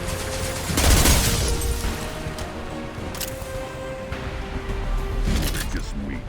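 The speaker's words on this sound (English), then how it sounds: "Firing a high-impact shot!" High-impact gunshots from the video game Mass Effect 2 crack out in two heavy broadband bursts, one near the start and one near the end, over a continuous bed of game sound and combat noise.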